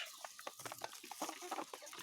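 Chickens cluck in short, scattered bursts, a small flock pecking and murmuring at a moderate distance.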